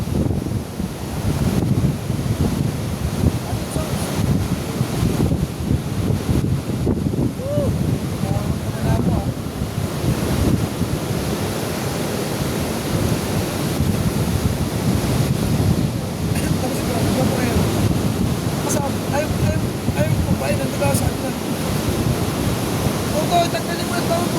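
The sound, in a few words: sea waves on a windy shore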